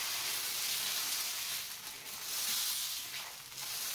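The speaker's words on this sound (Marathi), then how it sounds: "हे डोसे बघा मी तुम्हाला या आपल्या ॲल्युमिनियमच्या तव्यात सुद्धा बनवून दाखवते" Dosa batter sizzles steadily on an aluminium tawa, a constant bright frying hiss that swells and eases slightly, close and fairly loud with no talking.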